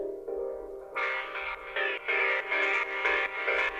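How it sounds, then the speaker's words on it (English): A strong dub techno synth pad with a phaser-flanger effect swells and pulses rhythmically in repeated bright chord stabs, full of sweeping movement and with no voices. "It's a quite strong pad with some phaser flanger effect,"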